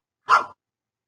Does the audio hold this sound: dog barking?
yes